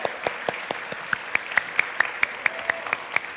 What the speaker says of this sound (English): now let's give her a warm round of applause